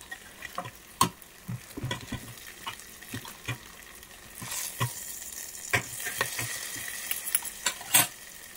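Fish frying in hot oil while cooking a Yemeni white manthi gives a soft sizzle, with sharp clinks and scraping stirs of a utensil scattered throughout, fairly close, and no talk.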